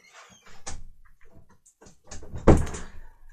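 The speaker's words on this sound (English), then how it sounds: "Sorry, just had to shut my door" A door in a home is shut with a solid thump near the end, preceded by soft rustling and handling noises close by in an otherwise quiet room.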